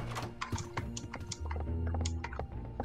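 Rapid, forceful typing on a computer keyboard, a dense run of close clacking keystrokes with uneven rhythm over a low background hum.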